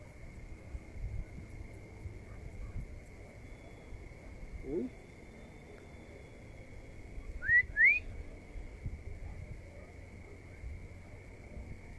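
A couple of short rising whistles ring out on a quiet hillside over steady insect-like background hiss, brief and moderately near, with no talking.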